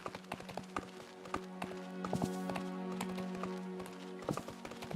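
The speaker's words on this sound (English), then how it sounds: "I could listen to my horse gallop all day." A horse gallops in the Disney Dreamlight Valley video game, its hooves beating a quick, even clip-clop rhythm that carries on throughout over a sustained musical drone.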